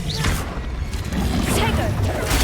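A Confringo blasting spell explodes in the Hogwarts Legacy video game, a loud burst and crash amid dense, continuous game noise.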